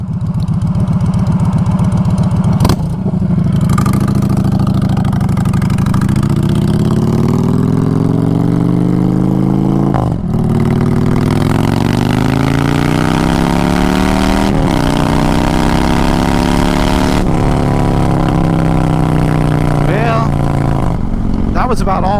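A 2022 Honda Fury motorcycle engine runs close by, rising and falling through several revs with brief gear-change dips, under wind noise and occasional talk.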